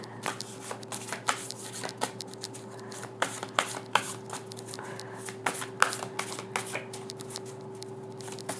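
Tarot cards riffled and shuffled in quick, irregular bursts of crisp flicks, close and fairly quiet, over a steady low electrical hum.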